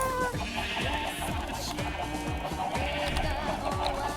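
Sheep in the video game Minecraft bleat repeatedly in a steady run of short wavering calls, close and clear over a background of game music, with a voice speaking faintly.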